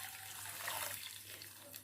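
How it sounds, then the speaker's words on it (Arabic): Water is poured over rice and yellow lentils in a pot for Alexandrian koshari, making a faint, steady rushing flow that runs without a break. "هحط زيها بالظبط مية"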